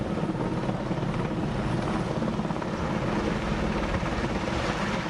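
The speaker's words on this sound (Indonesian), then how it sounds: "Salah satunya menggunakan helikopter waterbombing." Water-bombing helicopter flying over a burning landfill, a loud, continuous rotor and engine roar that stays close and steady with no voices.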